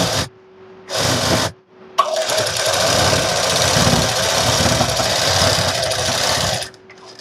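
Sewing machine stitching the side seam of loose straight palazzo pants, with short bursts at first and then one long steady run of close, fairly loud whirring and needle clatter before it stops.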